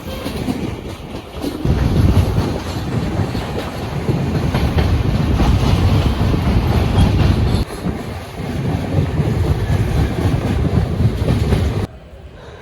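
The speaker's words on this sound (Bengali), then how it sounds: "ফারাক্কা জংশন থেকে ছেড়ে দিল ট্রেন আমাদের" Train running on the tracks as it pulls out of Farakka Junction, heard from on board as a loud, steady low rumble and rattle of wheels and carriages that continues throughout with no talk.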